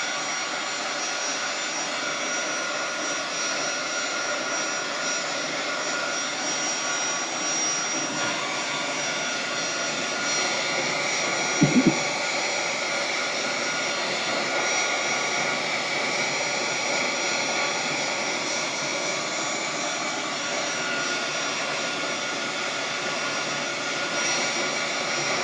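Electric dryer blowing air over artist trading coins, a steady, loud whooshing drone held close for the whole stretch, with one brief knock midway.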